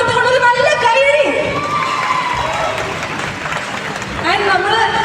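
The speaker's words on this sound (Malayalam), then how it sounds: "തിരുവനന്തപുരത്തിന്റെ മുഴുവൻ സ്നേഹം കൊടുത്തുകൊണ്ട് ഒരു നല്ല കൈയടി." An audience at a Malikappuram film team event in Thiruvananthapuram claps and cheers loudly, with shouts and a busy crowd roar mixed with voices.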